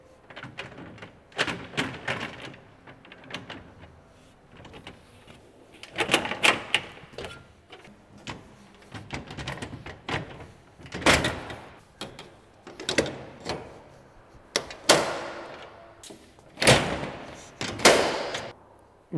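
Heavy side panels being set onto a LIDER wheels-under flatbed trailer, giving a run of sharp metallic clanks and knocks at an irregular pace, close and fairly loud, with quieter rattles and scrapes between the hits.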